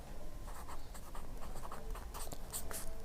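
An equation written by hand during a Class 10 math lesson: soft, close scratching strokes in short irregular bursts, with a steady faint background hiss.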